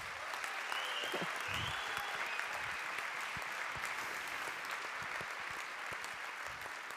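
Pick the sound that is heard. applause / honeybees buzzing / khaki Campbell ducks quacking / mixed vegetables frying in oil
applause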